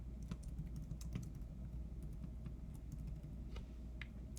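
Typing on a computer keyboard, soft, quick key clicks in an uneven run over a low steady hum, fairly faint and with no talk.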